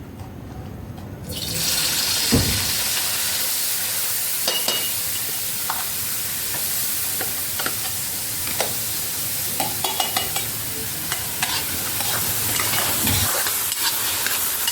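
Bitter gourd (karela) frying in a pan, a steady loud sizzle that runs throughout with repeated scrapes and clinks of a spoon stirring, close up and without talk.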